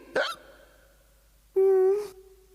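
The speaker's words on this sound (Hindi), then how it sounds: "अगर किसी को हिचकी परेशान करे तो उसे अचानक पीछे से डरा देने से उसकी हिचकी ठीक हो जाती है।" Two sharp hiccups in a Ninja Hattori cartoon, a short squeaky one followed after a pause by a longer, louder voiced hiccup with a tonal squeal, heard alone without talk.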